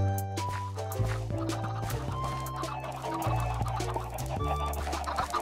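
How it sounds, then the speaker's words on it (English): Chickens in a video game cluck and bawk repeatedly over steady game background tones, close and clear, with several overlapping clucks spread through the stretch and no talking. "Got chickens."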